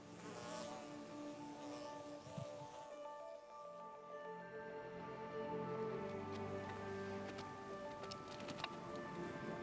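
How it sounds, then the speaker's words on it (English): Midges and flies buzz around a mountain campsite in the Ochils, a steady close insect hum with several droning tones layered over faint outdoor ambience, continuing without pause. "The midges and other beasts made their presence known."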